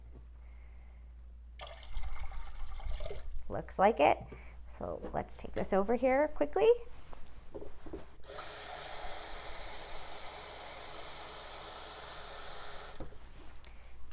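A person speaks briefly, then water pours steadily from a tap into a bowl, a loud continuous rushing hiss that stops abruptly.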